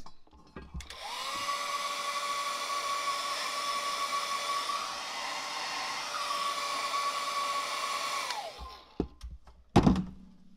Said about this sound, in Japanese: ドライヤーの音します